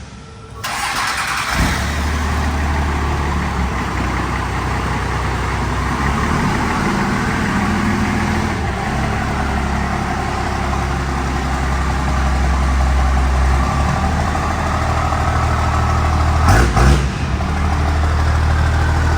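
A crew cab pickup truck engine starts up and runs steadily with a low, throaty rumble as it pulls forward, close by and continuous, with a brief clunk near the end.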